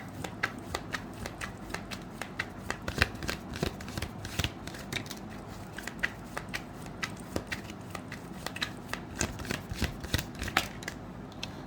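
Tarot cards being shuffled for a reading, a rapid run of close, crisp riffling clicks and slaps that keeps going without pause.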